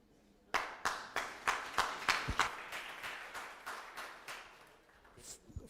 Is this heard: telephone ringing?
no